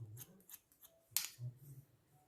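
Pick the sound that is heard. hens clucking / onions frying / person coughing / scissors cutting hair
scissors cutting hair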